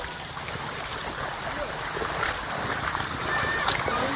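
A power boat moving across village flood water, a steady low motor rumble under constant water wash and splashing, fairly close, with no clear talk.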